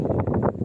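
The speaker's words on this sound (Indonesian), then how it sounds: "Angin lumayan kencang" Strong gusting wind near the Semeru volcano, buffeting the microphone in a short, close, rumbling burst.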